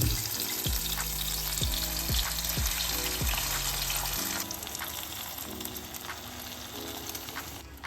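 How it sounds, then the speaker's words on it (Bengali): Two cracked eggs drop into a hot pan and fry with a loud, close, continuous sizzle. A few sharp clinks and scrapes come early, then the sizzle eases slightly and carries on. "এক মিনিট এটাকে একটু ফ্রাই করে নেব এইবার দিয়ে দিচ্ছি ফাটিয়ে রাখা দুটো ডিম"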